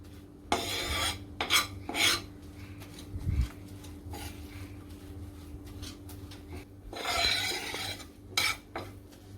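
Flour being stirred and roasted on low heat in a pan for white sauce, with intermittent scraping and rubbing strokes of a utensil against the pan, close and fairly quiet.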